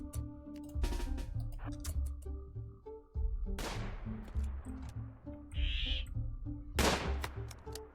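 Colonist gunfire in the RimWorld video game: a few sharp shots crack out over a steady game music bed, spaced apart across the stretch with no voices.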